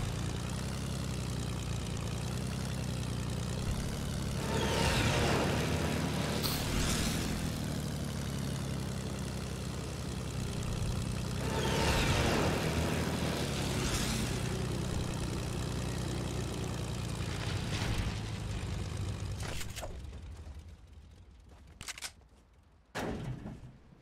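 Airplane engine droning in Fortnite, a steady loud propeller hum held for about twenty seconds with a few swelling whooshes, fading out near the end before some brief clicks.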